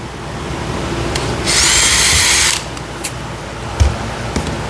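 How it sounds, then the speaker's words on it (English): A power drill with a 7/64 bit whirs steadily into wood for about a second, drilling a pilot hole, then stops, leaving faint clicks and handling noises nearby. "Drill through each of those spots."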